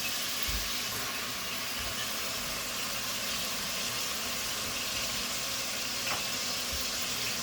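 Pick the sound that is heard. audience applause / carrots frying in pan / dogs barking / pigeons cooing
carrots frying in pan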